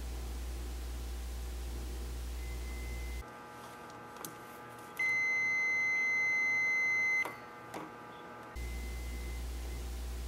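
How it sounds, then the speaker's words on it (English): Multimeter on continuity setting, probes across a motor start switch, giving a steady electronic beep that holds for about two seconds in a quiet room, framed by faint static and soft clicks from the leads. "I set it to continuity so it'll beep when there's a complete circuit"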